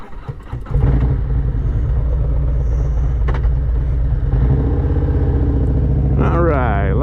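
A Harley-Davidson motorcycle fitted with T-bar handlebars starts up and settles into a loud, steady low rumble close to the microphone, then revs and pulls away under way near the end.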